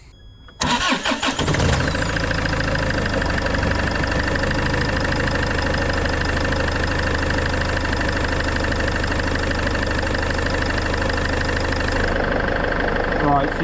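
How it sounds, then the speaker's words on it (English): A Land Rover Freelander 2 raised on jack stands cranks briefly, catches and settles into a steady idle, close and loud, humming evenly without steering input until fading slightly near the end. "we're just going to start up and leave the engine to idle with no steering"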